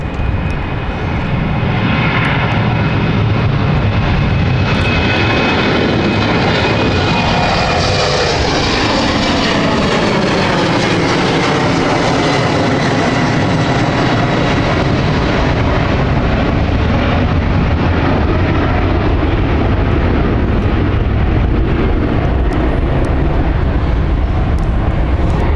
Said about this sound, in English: KLM also about to take off, going to Amsterdam.